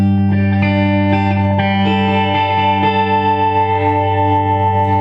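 A 2001 Mexican-made Fender Stratocaster electric guitar rings out through an effects chain with chorus and reverb, sustained chords and notes layered over one another, loud and steady with no talking.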